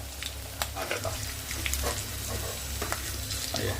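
Pieces of Egg 65 deep-frying in hot oil give a steady, close sizzle and crackle, with occasional sharp clicks from a utensil against the pan.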